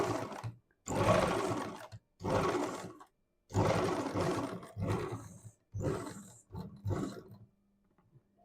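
A sewing machine double-stitching a blouse runs in loud close bursts of rapid mechanical whirring, stopping and restarting about seven times with short silent gaps between.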